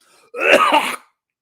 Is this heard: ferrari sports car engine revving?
no